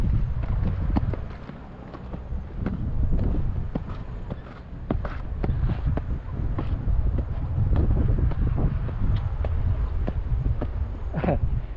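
Steady wind buffeting the microphone at the Bang Phra reservoir viewpoint in Chonburi, a loud continuous low rumble with gusty swells and scattered rustling.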